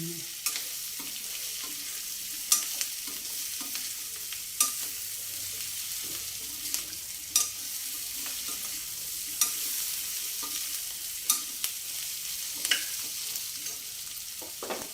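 Bottle gourd pieces fry in a pan for a radish-leaf vadiyalu pulusu, giving a steady bright sizzle with periodic scraping stirs from a spoon, close and continuous with no talking.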